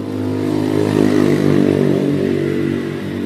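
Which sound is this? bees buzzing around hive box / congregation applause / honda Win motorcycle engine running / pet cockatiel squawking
honda Win motorcycle engine running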